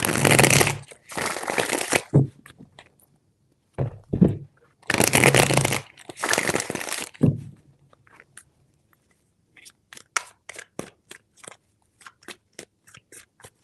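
Tarot cards are shuffled in bursts: two long riffling runs, a pause with a couple of soft taps, then two more riffles, followed by a string of sharp, separate card snaps and flicks, close and alone.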